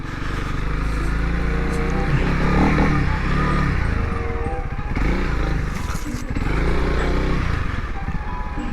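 A brand new Honda CRF300L is ridden off-road at close range, its engine droning and rising and falling with throttle changes for the whole stretch, with no talk over it.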